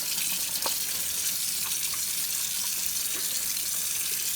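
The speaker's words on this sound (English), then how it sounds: "I'm just going to wash these parts first, just with a little bit of fairy works a treat." Running tap water splashes steadily and close by as Hoover Junior Dirtsearcher vacuum cleaner parts are washed with a little Fairy washing-up liquid. It is a continuous, even rush of water with faint knocks of the parts being handled, and no talking.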